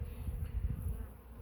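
Honey bees buzz at an open hive, a low dense droning hum from many insects close by, fluctuating gently in loudness throughout with no voices.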